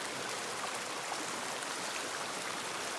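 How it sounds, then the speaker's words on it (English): Creek water running steadily near a cabin, a continuous broadband rush and babble of flowing stream water with no pauses and no voices. "right now the creek is running really good"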